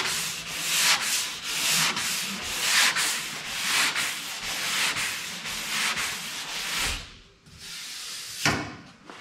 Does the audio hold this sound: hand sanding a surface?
yes